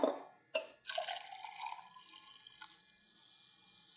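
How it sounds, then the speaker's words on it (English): Sparkling water is poured into a glass of gin, giving a short splashing pour with fizzy trickling and a few drips, close and fairly quiet, with no voices. "Add the sparkling water."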